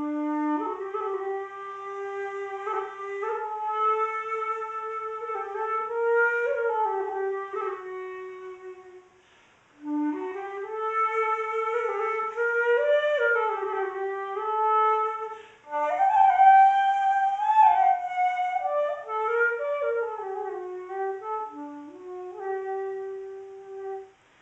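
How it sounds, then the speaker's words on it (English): A modified Egyptian flute, blown sideways, plays a slow, breathy melody of sustained notes with smooth slides, in two long phrases separated by a brief breath, clear and solo. "And here is the sound of the modified Egyptian flute."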